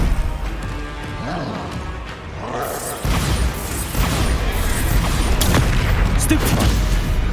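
Bombarda explosion spells in the video game Hogwarts Legacy burst amid chaotic combat, loud crashes and booming blasts layered over dense battle noise, growing heavier in the second half.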